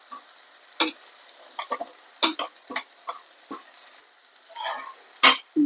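Flour roasting in oil in a pan for paneer bhurji, heard as scattered stirring scrapes and soft sizzling bursts with short gaps of quiet between them.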